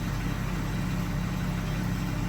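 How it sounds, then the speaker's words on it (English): A 2015 Ford F350 with the 6.7L Powerstroke diesel idles in a steady, dense low rumble with a faint rattle, close and continuous, with no voices over it. "Alright, I'm going to leave that and let it idle."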